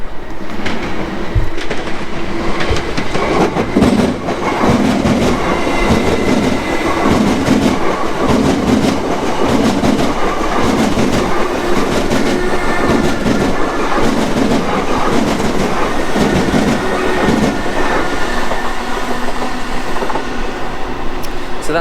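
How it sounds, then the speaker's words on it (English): A train rumbles steadily past at close range at Crewe railway station at night, wheels clattering over the rails with a continuous roar and occasional metallic squeal. "3 Royal Mail trains I've seen tonight here at Crewe"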